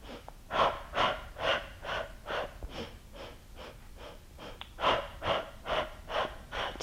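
Heavy rhythmic breathing during an intermediate Pilates mat oblique exercise, a steady series of loud, close inhales and exhales repeating about every half second with no talking.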